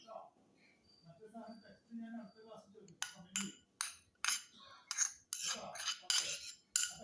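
Sautéed vegetables are stirred into an egg and flour batter with a utensil, producing repeated clinks and scrapes against the dish, close by, after a stretch of quiet talk.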